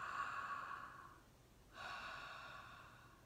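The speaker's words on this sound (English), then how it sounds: "I want you to breathe in deeply and" A long, deep inhalation draws air in to inflate the belly as a vocal warmup, a steady airy breath heard close up that pauses briefly and then continues.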